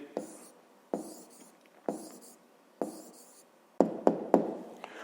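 Pen or pencil writing a math answer on paper in short scratchy strokes, about five separate bursts with pauses between, quiet and close.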